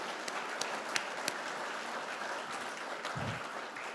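Audience applause at a completion ceremony, moderately distant and steady for a few seconds with a few sharper individual claps standing out.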